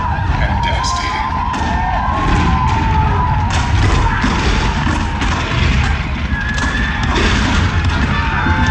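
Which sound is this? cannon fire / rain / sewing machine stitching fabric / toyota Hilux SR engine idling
cannon fire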